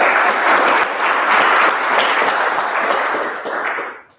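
A large audience at a joint committee meeting breaks into a hearty round of applause, dense and steady clapping for around four seconds that tapers off and stops abruptly.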